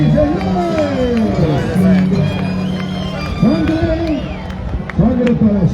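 Crowd cheering and shouting fill the space at a scissors dance festival in Paucara, Peru, while a loud, excited announcer's voice rings out over the roar.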